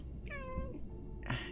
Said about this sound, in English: Yes, meow. You're adorable.